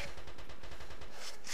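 Rapid, steady bursts of automatic gunfire from a realistic war video game fill the whole stretch, loud and continuous with a rhythmic rattle and no talk.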